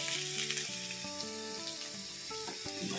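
Food fries in a pan with a soft continuous sizzle, faint and close, while a steady melodic tune plays over it.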